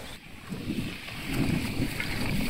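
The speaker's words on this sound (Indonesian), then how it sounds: "di sini anginnya sepoi-sepoi, jadi saya tidak kepanasan" A soft breeze at Situbondo railway station brushes the microphone in a steady, low rushing noise that swells slightly partway through.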